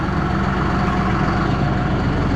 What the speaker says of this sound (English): there's a tractor ready to go to fight some snow